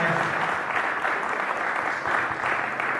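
A church congregation applauds during a baptism service, a dense, steady wash of many hands clapping at close range that continues unbroken for the whole stretch, with no voices standing out.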